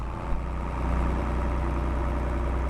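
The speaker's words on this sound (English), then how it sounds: "I need to stop driving this tractor" Steady low rumble of a tractor engine in Farming Simulator 22, a continuous droning idle close by with no voices.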